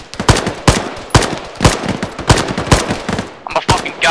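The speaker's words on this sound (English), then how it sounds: "Waste all your ammo, just send out rounds that you can hit right now." Automatic gunfire in the military video game ArmA 3, loud close bursts of rapid shots repeating steadily throughout, with a brief voice under the firing.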